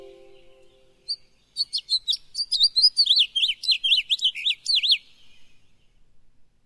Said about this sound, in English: the song calls of the birds, and I should play one